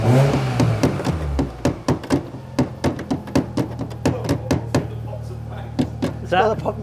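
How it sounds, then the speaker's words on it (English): A used budget car's exhaust popping and banging while the engine revs, giving a rapid series of sharp cracks at an irregular rhythm, close and loud, with a voice briefly heard at the start. "Another pop and bang, Matt."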